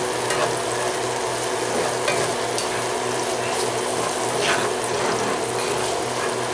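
Mushrooms frying in a cast iron pan crackle steadily as panko breadcrumbs are stirred through them, a continuous close sizzle with faint scraping from the mixing.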